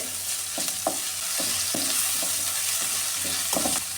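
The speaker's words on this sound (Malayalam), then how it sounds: "സവാളയും പച്ചമുളകും കറിവേപ്പിലും ഇട്ട് കൊടുക്കാമേ" Sliced onions, green chillies and curry leaves sizzling and frying in a pan for cabbage thoran, a steady close hiss broken by several scraping stirs of a spoon.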